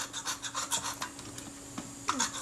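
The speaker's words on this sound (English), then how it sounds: "Got to scrape that back to clean surface" Corrosion scraped off an aluminium camera back, a series of short close rasping strokes in an uneven rhythm, fairly quiet and alone.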